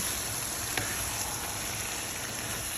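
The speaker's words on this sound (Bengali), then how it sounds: "এবার আমি চিকেনগুলো দিয়ে দিব দিয়ে দিলাম ভালো করে নেড়ে চেড়ে" Chicken pieces fry in oil with browned onions for a chicken tehari, giving a steady, even sizzle with a single faint tap partway through and no talking.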